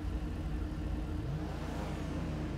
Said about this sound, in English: With the way that they're revving the engine